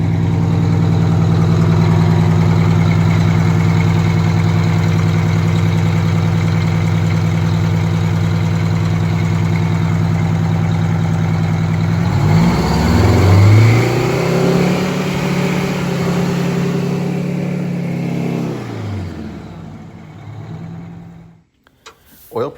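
Old engine that sat unused for 20 years, run on a stand: a steady, loud idle drone for several seconds, then two rising-and-falling revs before it settles and cuts off near the end.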